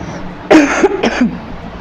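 A couple of sharp, loud coughs close to the mic, a quick burst followed by a second cough, then quiet.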